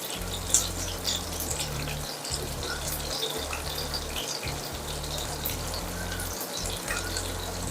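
Ayala mackerel fries in a pan over low to medium heat with a steady, dense sizzle and crackle. A low rhythmic hum runs underneath.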